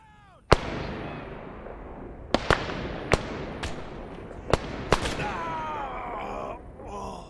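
Suppressing gunfire in the ArmA 3 video game: a series of sharp, loud shots, about seven spaced irregularly, each followed by a long echoing decay, over a low rumbling background.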